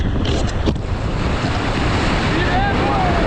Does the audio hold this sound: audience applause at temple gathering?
no